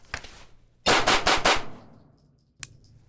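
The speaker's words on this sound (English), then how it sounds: "we're gonna go from the holster and do just 4 rounds on this target at about 7 yards" An Atlas Gunworks Eos pistol fires four rapid, loud cracking shots in quick succession after a draw from the holster at a target about 7 yards away, with a sharp click and clatter around them.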